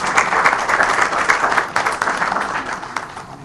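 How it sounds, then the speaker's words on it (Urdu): Sustained audience applause welcoming the Chief Minister of Punjab as chief guest at an IT sector event, steady dense clapping throughout at a fairly loud level with no talk over it. "بھرپور تالیوں میں استقبال کیجیے."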